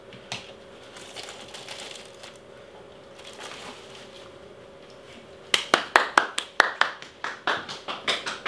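Hand claps at a doorway during a dog relaxation exercise: a fast run of about ten sharp claps over the last few seconds, loud and close, after a quiet stretch of faint taps and room noise.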